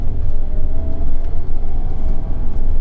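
A car with a VersaTuner N1 tune accelerates hard, its engine a loud, sustained rumbling roar with road noise during the pull, no talking over it.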